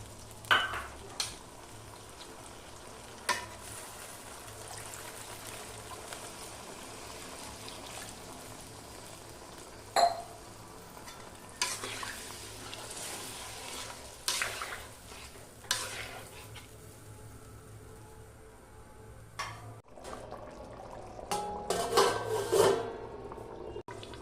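Katla fish curry simmering in a pan after mustard paste mixed with water is added, with soft sizzling and occasional stirring scrapes, a few louder clinks and splashes toward the end.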